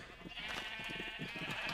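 Sheep in the video game Minecraft bleating repeatedly, several wavering bleats overlapping in quick succession at close range, steady and fairly loud, with no talk.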